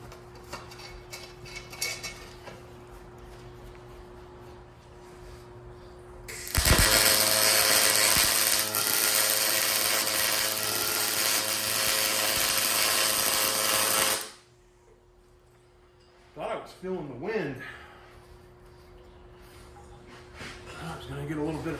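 A firewood bundling stand being welded: a loud, steady sizzling crackle runs for about eight seconds, set between quieter shop sounds, clanks and someone speaking.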